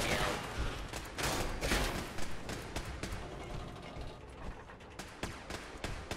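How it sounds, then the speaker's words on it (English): An automated turret defense system in Fallout 76 fires rapid mechanical bursts of clattering shots, rattling steadily at a moderate distance, with occasional speech in the background. "Engaging automated turret defense system."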